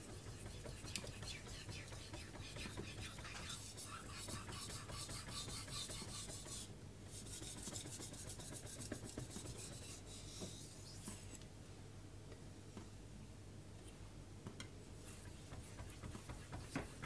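A Suehiro Debado knife is sharpened on a 4000 grit whetstone, its blade rasping in steady back-and-forth strokes. The quiet, close scraping repeats continuously with a brief pause partway through.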